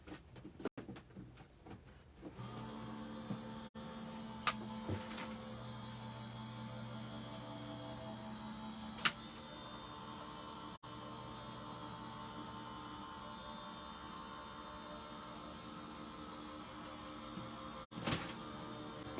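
A Gemini die-cutting machine runs with dies fed through it, giving a steady motorized whir and hum after a few opening clatters, with occasional sharp clicks and knocks near the end.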